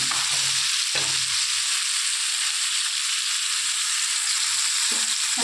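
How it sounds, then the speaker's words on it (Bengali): Spice paste of mustard, cumin, ginger, green chilli and poppy seed fries steadily in a pan for a pointed gourd dish, a continuous close hiss broken by a few low scraping stirs, with no talking. "এবার আর একটু নেড়ে নিয়ে কষিয়ে নিচ্ছি।"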